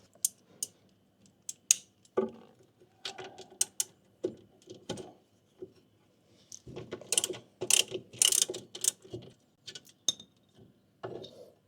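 A hand ratchet working the bolts on the brake master cylinder of a Honda Civic Nouva, quick close clicking bursts in short irregular runs with pauses between, fairly quiet.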